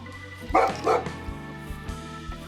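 A dog barks indoors, two loud close barks in quick succession followed by softer, lower woofs and whimpering sounds, with background music playing underneath.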